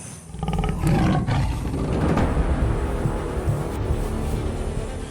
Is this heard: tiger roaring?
yes